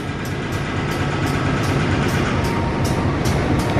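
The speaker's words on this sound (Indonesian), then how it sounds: "ini ada kereta api Argo Ceribon dari Jakarta Gambir tujuan akhir stasiun Tegal" Argo Cirebon express train from Jakarta Gambir bound for Tegal passing through Jatinegara station in Jakarta, a steady loud rumble with rhythmic wheel clacks repeating along the rails throughout.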